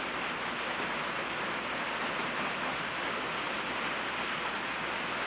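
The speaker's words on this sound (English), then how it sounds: "I'm just going to chill and listen to rain" Steady rain falling in the bush, a soft even hiss of drops that holds at a constant level without breaks or voices.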